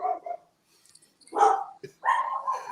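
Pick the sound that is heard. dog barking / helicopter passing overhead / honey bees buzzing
dog barking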